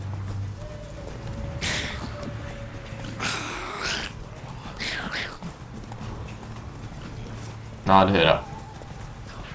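Horse hooves clip-clop in The Witcher 3 on the Skellige isles, sounding as scattered, fairly faint clops with a louder burst near the end. Someone talks over them throughout.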